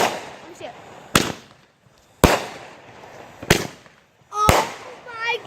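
Backyard Fourth of July fireworks cake of 63 shots: four sharp, loud bangs spaced about a second apart, each with crackling tails and whistling bursts, while people talk in the background.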